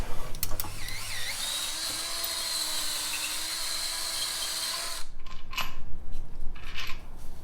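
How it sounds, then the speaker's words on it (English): A drill bores out a 1/2 inch hole for a steering stabilizer bolt during a JL Rubicon Dana 44 front axle install. A steady, high, whining spin runs for about five seconds, then cuts off, leaving faint clinks and handling noises. "You just want to go ahead and drill that out that 1/2 inch just so the bolt fits in there good."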